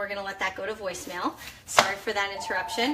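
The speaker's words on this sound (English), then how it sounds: "So basically I'm starting off with just chopping up apples." A knife chops apples on a cutting board, with a few sharp hits, one louder strike standing out, while a person talks over most of it.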